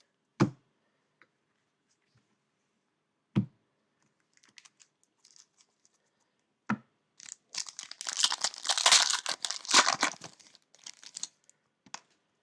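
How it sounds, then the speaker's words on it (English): Baseball trading cards being moved around and handled, a few isolated sharp taps and clicks, then a stretch of rustling, sliding and crinkling of cards and packaging, close and alone. "let me move some of these cards around here"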